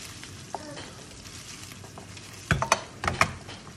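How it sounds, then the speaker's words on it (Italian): Gaeta olives, pitted, hit a frying pan and are stirred, bursting into loud crackling sizzle over a steady background hiss, with a few sharp scrapes and spatters in the final seconds. "Aggiungiamo le olive di Gaeta che ho snocciolato, mescoliamo un po'"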